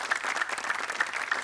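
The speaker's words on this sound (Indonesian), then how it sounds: "Iya, tepuk tangan dulu." A television studio audience on a game show claps together in a brief, dense burst of applause that continues steadily for a second or so.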